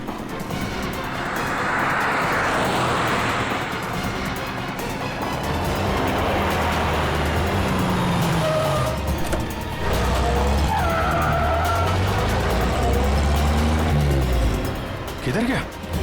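A car pulls away and skids, a long rough tire screech and engine noise filling the scene, with shouting voices over it in a tense street setting.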